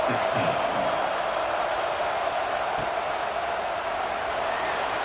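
A stadium crowd at a college football game in EA Sports College Football 26 keeps up a steady, broad roar. The murmur stays even throughout and sits under a commentator's voice.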